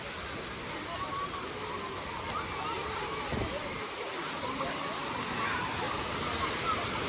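Steady rushing and splashing water fills the air at a free village water park in Ubon Ratchathani, rural Thailand, a constant wash of spray with occasional sloshes.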